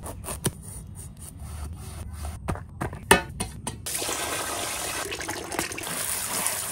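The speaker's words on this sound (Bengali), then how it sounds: "ইলিশ মাছ আর কদু ধোয়া হয়ে গেছে" Hilsa fish pieces and bottle gourd get washed by hand in water, with scattered knocks and rubbing at first, then a continuous close splash and rush of water.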